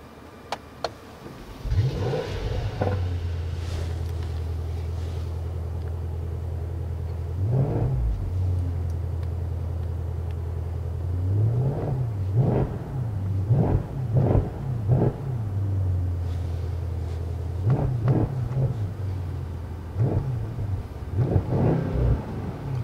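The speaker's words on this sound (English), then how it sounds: "So now let's start the engine." A 2019 Mercedes-AMG S63 4MATIC+ engine in sport mode idles with a low rumble, then revs hard several times in quick bursts, the throttle blips rising and falling over a steady drone.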